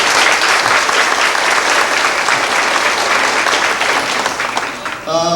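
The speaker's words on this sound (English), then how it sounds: "Thank you very much for your applause." Dense, steady audience applause at the Princess Hantsport 1995 event fills the hall, loud and continuous, fading slightly at the very end as a voice begins.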